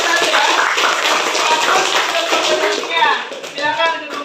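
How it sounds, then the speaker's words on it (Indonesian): Classroom participants clap for a group after its presentation in a school coaching session; sustained, fairly loud clapping, with voices rising over it toward the end. "tepuk tangan untuk kelompok satu ya."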